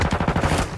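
Rapid automatic gunfire from computer-controlled enemies in a first-person shooter, a quick burst of repeated shots at a steady rhythm, loud and close, with no talking.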